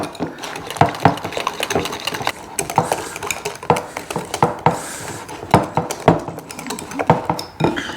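A whisk clinks and scrapes against a bowl while mixing deviled egg filling, irregular metallic taps and rattles at close range, continuous strokes with brief pauses, no voices.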